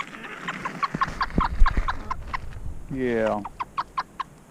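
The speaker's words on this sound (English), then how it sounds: "Little mixed batch of bantams." A mixed batch of bantam chickens clucks nearby in short, quick bursts, with one rising squawk partway through. A person briefly speaks once.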